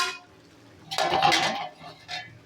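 A metal lid set onto a cooking pot of pigeon meat and potato curry in a village kitchen, a brief clattering clink in the middle with softer metallic knocks afterward.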